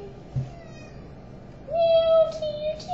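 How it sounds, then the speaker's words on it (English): A cat meows in a room, with a faint short meow early on and then a longer, clearer drawn-out meow, over a low background hum. "Meow to you too."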